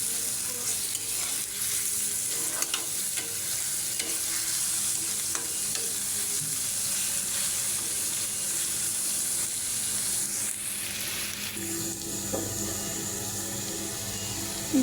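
Garlic paste sizzling and being stirred in hot oil with tilapia fish, a steady loud frying hiss throughout with occasional spatula scrapes and a brief watery rush near the end.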